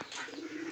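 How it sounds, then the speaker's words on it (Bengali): Pigeons cooing inside a loft: a brief low, steady coo held close against a soft ambient hiss, with no voices. "ওপরে কিছু পায়রা চেপে রয়েছে"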